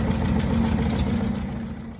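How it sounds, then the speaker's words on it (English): Steady engine of a 1948 Minneapolis Moline Z farm tractor, a loud, even low rumble heard up close for a couple of seconds without any talking. "48 Moline Z, my father's second tractor."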